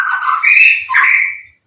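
A white-rumped shama (murai batu) songbird gives a loud, close call of two harsh, squawking phrases, the first bright and sustained, the second rising then trailing off, with no talk.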